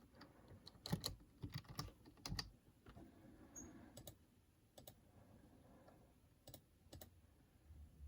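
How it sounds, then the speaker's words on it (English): Irregular keyboard typing, bursts of sharp clicks and key taps with pauses between, fairly close, no voices. "I'm trying to try my best to type."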